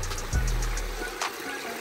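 Water cascading down rocks in a restored creek, a continuous close rushing and trickling flow with a brief low gurgle near the start.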